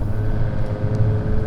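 A Maserati Ghibli's engine held under throttle, a steady low rumble with road and cabin noise and no talk.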